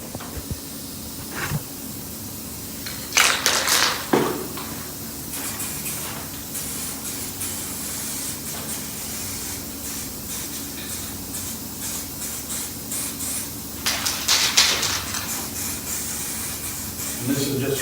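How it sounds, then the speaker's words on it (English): A rattle can of etch primer sprays in a few short hissing bursts at close range onto a 1967 Impala SS door handle, with quieter gaps between. "this is just a rattle can edge primer"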